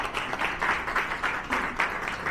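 Applause from an audience at a religious freedom conference, a steady wash of many hands clapping at moderate level with a faint voice underneath, continuing through the short moment.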